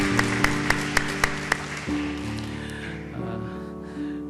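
A church congregation applauds at a Korean service, a few sharp claps standing out early over sustained instrumental music, the clapping fading within a couple of seconds while the music continues.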